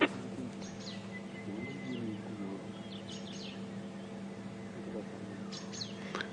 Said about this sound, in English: it's actually quite an interesting bird calling.